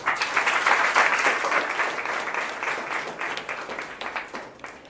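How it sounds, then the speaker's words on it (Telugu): An audience at an awareness program claps together in sustained applause, dense and fairly close, swelling early and then tapering off over several seconds. "క్లాప్స్."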